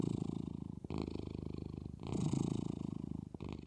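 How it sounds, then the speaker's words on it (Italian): A contented, relaxed cat purrs close up in steady rhythmic pulses, with short breaks between breaths and no other sound. "Quando sono felice e rilassato, faccio le fusa."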